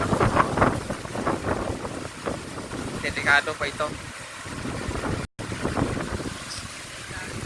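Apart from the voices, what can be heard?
strong wind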